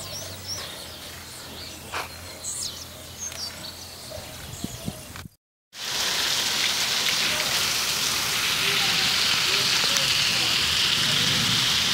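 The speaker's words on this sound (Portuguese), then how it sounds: "Chovendo muito aqui nesse momento, ó." Heavy rain pours steadily on a farm, a dense, loud hiss that briefly cuts out and returns even stronger, with faint bird calls in the first half.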